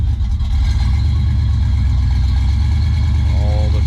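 A truck's 350 throttle-body-injected engine gives a steady, deep, close rumble throughout. A short voice-like sound enters just before the end.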